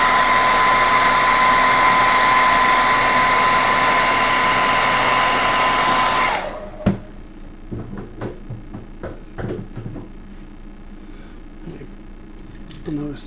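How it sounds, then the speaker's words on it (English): A heat gun or hair-dryer-style blower runs loud and steady, drying fresh paint on a mottled minnow flatside crankbait lure, then cuts off about halfway through, leaving quiet handling noises. "I probably ought to heat set this to dry it off."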